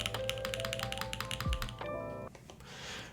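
Rapid close typing on an Austin R3 mechanical keyboard fitted with tactile Anubis switches, a quick run of crisp clacky keystrokes that slows to a few final taps, no voices.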